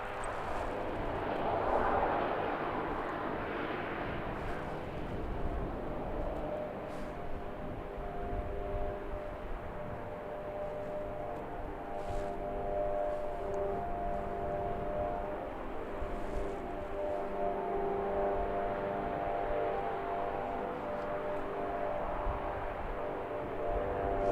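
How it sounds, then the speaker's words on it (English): A Singapore Airlines airliner taxiing slowly at Christchurch Airport, New Zealand, gives a steady, distant jet engine rumble and whine that holds at a constant level throughout, with faint outdoor background noise. "Very slow taxi for Singapore Airlines today."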